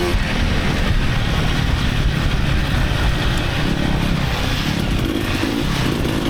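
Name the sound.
KTM 300 dirt bike engine racing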